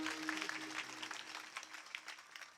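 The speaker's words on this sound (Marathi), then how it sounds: "एकदा गायक वादकसाठी जोरदार टाळ्या वाजवा." Faint applause from a kirtan audience for the singers and musicians: scattered, uneven hand claps at a distance, with a steady sustained musical tone lingering underneath.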